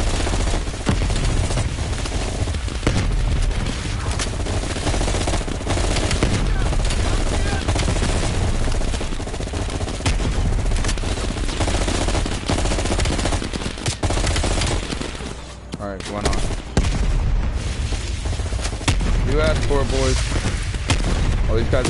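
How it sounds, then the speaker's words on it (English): Dense gunfire and explosions from a grenade launcher and other weapons in Call of Duty: Black Ops Cold War, a loud continuous battle din with booms layered throughout, alongside game voices. "I guess I should use the grenade launcher"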